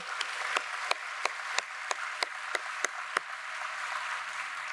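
One person claps slowly and evenly, about ten distinct claps, faint and well spaced, at a university first-year orientation welcome.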